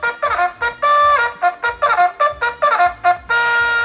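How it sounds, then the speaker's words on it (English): A classroom cleanup bell played over an art room microphone, a bright repeating electronic chime pattern with several quick tonal bursts and sustained notes, loud and close with no talking. "The cleanup bell sounds like this."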